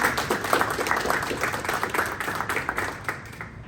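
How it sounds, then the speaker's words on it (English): A school ceremony crowd gives another round of applause, sustained mid-level clapping from many hands that tapers off toward the end. "And then one more round of applause for Mr."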